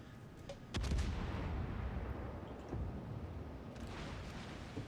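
Battleship main guns firing in the video game World of Warships Legends, a heavy booming salvo followed by a long rumbling roar, with a few sharper reports trailing off, loud and alone.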